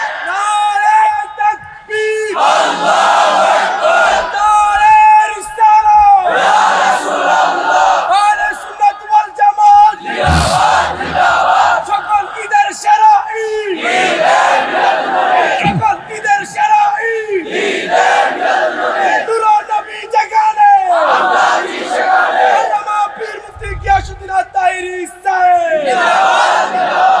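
A large gathering at a Bengali waz religious sermon answers a takbir call, chanting Allahu Akbar in loud, rhythmic surges of many voices, repeated call-and-response bursts filling the whole stretch.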